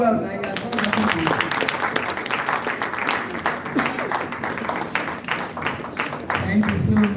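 Audience applause at a law institute founders lecture, broad steady clapping with scattered sharper claps running the full length, moderately loud and close, with faint voices beneath.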